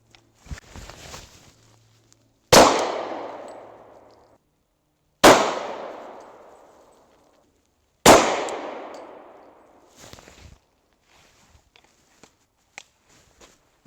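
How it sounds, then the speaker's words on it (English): Three loud, sharp gunshots ring out a few seconds apart at a range, 180 grain FMJ rounds fired at a tourniquet, each crack trailing off in a long echo, with faint clinks and shuffling before and after. "We're going to fire a couple rounds and see how it holds up."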